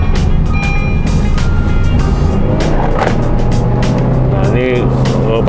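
A Honda Jazz with a Vaitrix throttle controller set to sport mode revs as the throttle is pressed. The engine drones loud and steady from inside the cabin, with a person talking over it.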